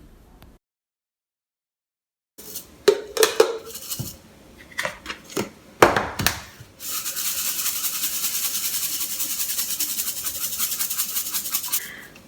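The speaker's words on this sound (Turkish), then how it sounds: "Güneşte kurutup robotta çektiğim yumurta ve muz kabuklarını birleştiriyorum." Ground dried eggshells and banana peels are stirred in a bowl, giving a run of sharp clinks and scrapes followed by a steady gritty rustling as the dry powder is mixed, close and fairly quiet.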